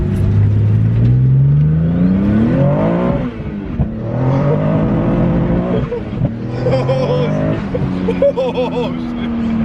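A twin-turbo Nissan 370Z running on E85 accelerates hard from inside the cabin, its engine note climbing loudly through the gears with turbo whir, while occupants talk over it.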